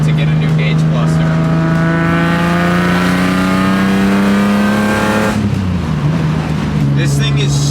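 A BMW E30 with a swapped-in S54 engine climbs in revs as it drives, its raspy note rising steadily before easing off on a gearchange and pulling again, loud and close inside the car.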